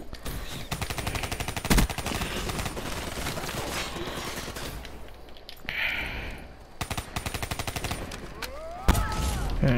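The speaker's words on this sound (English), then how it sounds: "now they're pre-firing" Enemy gunfire sprayed into a spawn area in a shooting video game: rapid, loud bursts of automatic fire in dense clusters, pausing briefly before more sharp shots.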